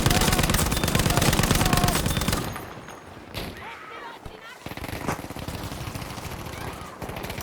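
A Lewis machine gun fires in Battlefield V: a loud, rapid, unbroken burst lasts about two and a half seconds, then gives way to quieter battle noise with scattered distant shots and background voices.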